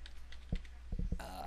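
A few soft key presses on a computer keyboard while a keyword is typed, in a quiet room. The clicks are sparse and faint, with a brief tonal sound at the end.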